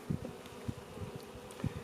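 Honeybees droning around a weak backyard hive opened for inspection, a low steady buzz with brief louder swells as individual bees pass close by, no voices.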